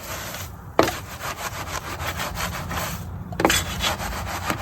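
A brush scrubs the inner wheel barrels of a 2002 Camaro SS in steady back-and-forth rubbing strokes, with two sharper knocks where the brush strikes the rim, close and alone without voices.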